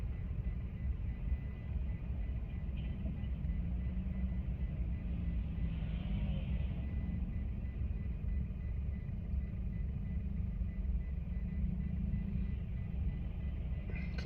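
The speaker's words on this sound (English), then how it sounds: "I'm watching this Trans-Tech truck turn, make a right turn." A Trans-Tech truck making a right turn, a steady low engine rumble heard from a distance that stays constant and unbroken throughout.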